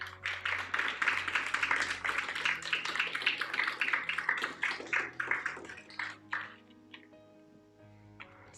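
A church congregation claps in a dense burst of applause for several seconds during a sermon, then the clapping thins out and fades.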